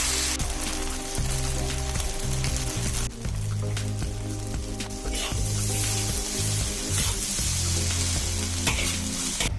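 Rice vermicelli stir-fried in a wok with chives and fermented soybean paste, with loud, steady sizzling and frying plus scraping and stirring throughout.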